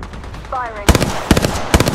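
Gunfire in a team shooter video game, with three sharp bursts of rapid shots in quick succession following a short electronic tone.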